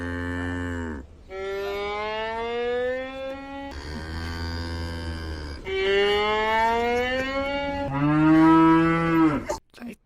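A cow moos loudly and close, several long drawn-out bellowing calls one after another with brief breaks between them, no other sounds competing.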